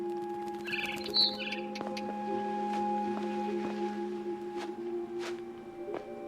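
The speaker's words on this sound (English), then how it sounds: "Then I heard chirping outside my window." A barn swallow chirps outside a window in the game What Remains of Edith Finch: a few faint, quick twitters early on, set against steady sustained tones and soft ambient noise.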